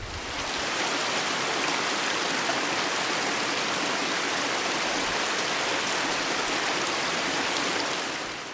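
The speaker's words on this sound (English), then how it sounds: "So you just saw me fill up my water bottle with a liter of water." Water from a mountain stream rushes steadily into a bottle being filled, a dense, continuous close splashing and gurgling wash that holds evenly throughout with no talk.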